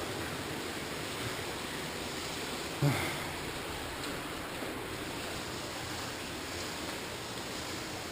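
Waterfall inside a cave rushing as a constant broadband roar, moderately distant and steady throughout, with one brief soft bump partway through.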